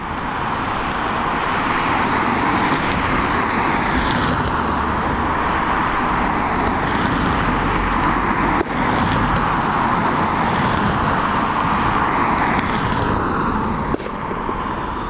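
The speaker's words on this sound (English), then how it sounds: "this Turkish Airlines now on departure" A Turkish Airlines airliner departs Dublin Airport, its jet roar a broad, steady wash of noise heard from a distance that swells gently and holds throughout, with no talk.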